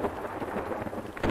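Rain and thunder in the survival video game Zed Zone: a steady, dense wash of rainfall with low rumbling, swelling into a louder burst near the end.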